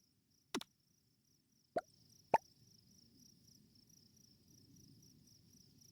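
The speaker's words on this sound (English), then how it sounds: "can you guys even hear the crickets?" Faint, steady cricket chirping from the night ambience of a KFC otome game, preceded by three sharp, isolated plops.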